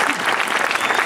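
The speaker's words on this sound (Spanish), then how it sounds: "Un fuerte aplauso para Pablo" Applause for the winner and runner-up of the eighth Villa de Navia rear-wheel duel, a dense continuous clapping from a crowd at steady loudness throughout, with no pause.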